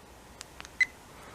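A short electronic beep from an SJCAM C110 Plus action camera as its Wi-Fi button is pressed, preceded by a few faint clicks in a quiet room.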